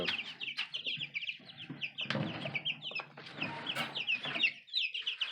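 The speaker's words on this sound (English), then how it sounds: "there's the chickens." Chickens cluck and chatter continuously close by, with several birds calling over one another in a busy, rhythmic stream of short notes.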